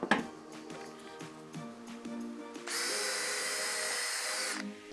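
A power drill bores holes in formwork planks for a garden chair: quiet knocks and handling, then one loud, steady whine that runs about two seconds before cutting off, close by.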